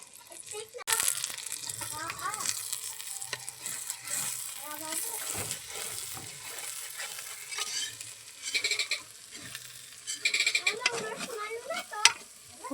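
Squash with egg sizzles and fries in a pan and is stirred and flipped, with scraping clatters and bursts of sizzle, while someone talks now and then in a Filipino language.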